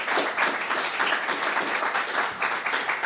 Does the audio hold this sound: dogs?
no